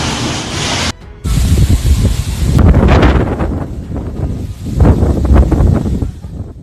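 Strong gusts from Storm Benjamin on the French coast, loud buffeting rushing and roaring with a brief drop before it surges back, gust after gust.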